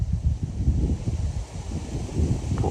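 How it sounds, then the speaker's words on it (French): Wind gusts against the microphone at night, a low uneven rumble that rises and falls in short buffets, with a soft rustle underneath and no talking. "là c'est le vent"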